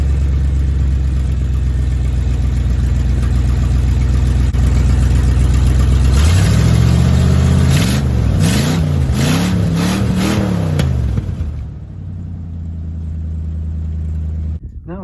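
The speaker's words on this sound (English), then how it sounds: "Now it's time to start it up. This is cold start too." A cold 1980 Ford F150 with custom exhaust turn-downs idles with a deep, loud rumble, then revs in several rising and falling bursts before settling back to a steady idle.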